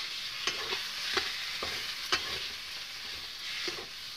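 Boiled potato mashed with spices is stirred and scraped against a pan, a steady soft scrape with several sharper clacks of the spoon spread through, alone with no talk.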